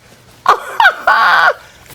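A wild turkey in a hunting video game gobbles in three loud, close bursts, two short and one longer rattling call, over quiet game ambience with no talking.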